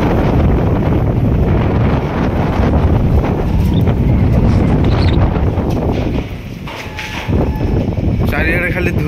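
A strong wind and rainstorm roars against the microphone in loud continuous buffeting gusts, dipping briefly before picking up again.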